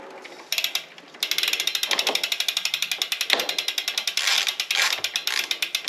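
Rapid, evenly spaced clicks of a torque wrench ratchet sound up close as bolts on a Stages Power L power meter are tightened on a Shimano GRX 810 crank, running in steady bursts after a brief pause.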